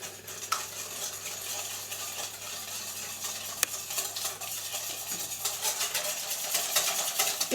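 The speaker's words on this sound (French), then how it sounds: "On mélange avec le fouet à main" A hand whisk beats cherry clafoutis batter in a bowl, producing a steady rapid clatter and scraping that grows slightly louder toward the end, with no speech.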